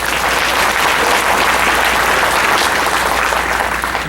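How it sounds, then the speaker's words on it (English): A large gala audience at a fundraising dinner gives a sponsor a loud, continuous round of applause, dense and unbroken from start to finish with no talking. "Please give them a round of applause."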